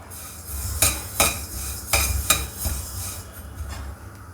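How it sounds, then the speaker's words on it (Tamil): Sesame seeds roasting in a pan for a sesame chutney powder, stirred with a metal spoon that scrapes and taps several times over a soft crackling popping, close with no talk. "இங்கே பாருங்கள், எள்ளு நல்லா வறுபட்டுடுச்சு. ஒரு சின்ன சவுண்டு வரும் எள்ளில் பொரியிற மாதிரி."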